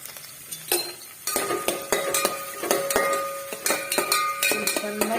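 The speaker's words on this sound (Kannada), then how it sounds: "ಎಣ್ಣೆ ಕಾದಿದೆ ಹಸಿಮೆಣಸಿನ್ಕಾಯಿ ಹಾಕೊಂಡೆ ಈರುಳ್ಳಿ ಹಾಕೊಂಡೆ" Green chillies and onion frying in hot oil sizzle loudly up close, broken by repeated metallic clinks and scrapes of a utensil stirring against the pan in an uneven rhythm, with no speech.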